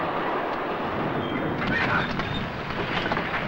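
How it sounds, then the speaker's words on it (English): Orient Express train in a 1960s radio spy drama, steady loud clatter and rumble of wheels on rails with faint squeals and clicks as it slows toward a stop. "Train! It is stopping!"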